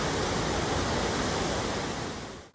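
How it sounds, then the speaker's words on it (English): River water cascading powerfully through a deep, steep, confined valley off Exmoor in North Devon: a steady, loud, close rushing roar that runs for about two and a half seconds before cutting off. "the water cascading off of Exmoor can be very powerful in this confined space"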